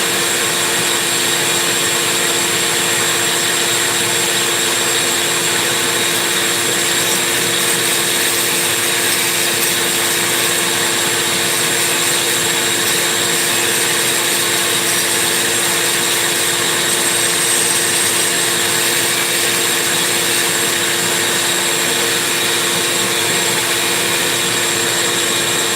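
A rotary burr grinds steadily into the exhaust port of a Husqvarna 394xp chainsaw, a continuous high-pitched whine and rasp at close range, loud and unbroken throughout.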